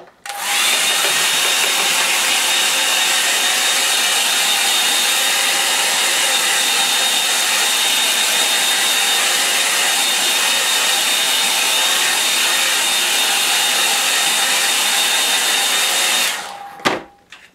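A hair dryer runs steadily for about sixteen seconds, loud and close as it dries a watercolour painting, with a steady whine, then cuts off with a brief knock at the end.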